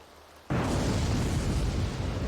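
Rain falling in The Sims 2 starts abruptly after a short quiet moment and becomes a loud, dense, steady hiss that continues to the end, with no talking.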